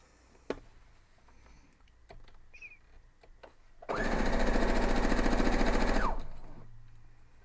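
A sewing machine runs a quilt block seam in one continuous burst of about two seconds, a loud rapid mechanical whir and clatter, preceded by quiet handling clicks.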